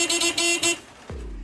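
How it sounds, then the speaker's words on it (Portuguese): A car horn honks in several quick bursts on a rural North Korean road, the driver sounding it to clear a path, followed by a low engine rumble rising as the vehicle pulls away. "O motorista buzina sem parar para abrir caminho para sairmos dali."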